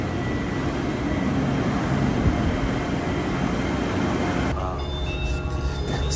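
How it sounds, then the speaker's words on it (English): Monorail train pulling into a station in Tokyo, a loud steady rumble and rush of wheels and air that drops away abruptly near the end, with faint ambient noise afterward. "Oh, and here is our train."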